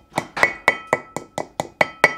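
Seal being tapped into a front spindle hub during a Chevy Nova front suspension install, nine evenly spaced sharp metallic hammer taps with a slight ringing clink, close and alone.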